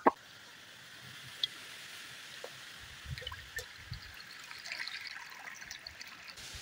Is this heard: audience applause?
no